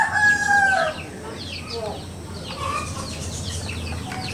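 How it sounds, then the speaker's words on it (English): Roosters crow at a house in Claveria, Misamis Oriental, Philippines, one loud rising call up close at the start followed by fainter overlapping crows and clucks in the distance. "why these guys start crowing at 3 o'clock in the morning"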